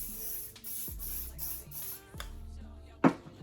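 Hair spray is sprayed onto a curly wig in several quick, close hissing bursts, about five short sprays in a row, followed by a handling click and a sharp tap, with no talking.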